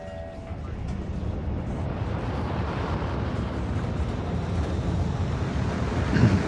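Rockets launching in the factory-building video game Factorio, a sustained loud roaring rumble that swells slightly toward the end, steady and dense throughout with no talk.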